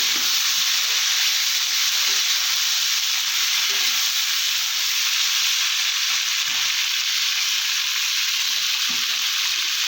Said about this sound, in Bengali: এরকম এঁচড় বানিয়ে রেখেছিলাম, এগুলো ছেড়ে দিলাম। কিছুক্ষণ ভেজে নেব।